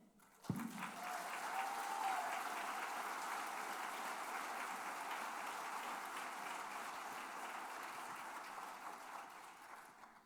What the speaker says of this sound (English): I think you've done a lot of clapping tonight